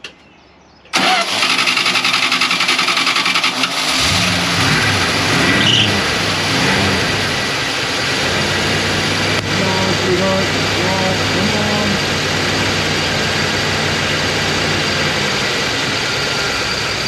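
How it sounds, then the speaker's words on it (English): An old 50-year-old Winnebago motorhome engine, rigged with a makeshift fuel pickup in the gas tank, cranks and turns over loudly and steadily for many seconds without clearly catching, with faint voices in the background. "We're going to start this thing up to run it"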